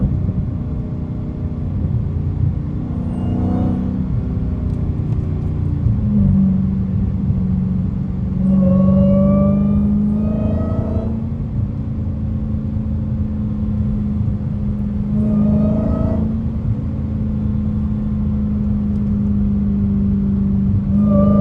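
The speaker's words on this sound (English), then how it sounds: "Can't tell me the car don't sound like a baby crying." A Dodge Challenger Hellcat driven through snow, its engine a steady deep rumble swelling into repeated rising revs with a whining, wailing tone that climbs and falls in several loud bursts, close and continuous.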